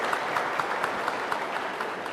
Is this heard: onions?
no